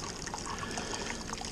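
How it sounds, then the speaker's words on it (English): Wort poured slowly from a pitcher back onto the grain bed during a blood orange beer brew, a steady soft trickle and splash, close and continuous. "So we'll take one or two pitchers out. Pour it back in slowly"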